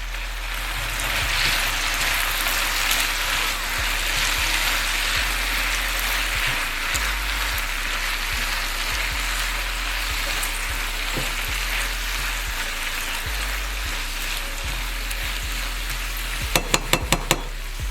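Lemon and lime zest sizzling in a hot pan for Mediterranean chicken, a steady close frying crackle with occasional soft stirring scrapes and a few sharp clicks near the end, no voices.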